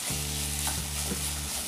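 Chopped tomatoes sautéing with ginger garlic paste in a pan for a mushroom pepper masala, a steady close sizzle with a couple of soft spoon scrapes over a low hum.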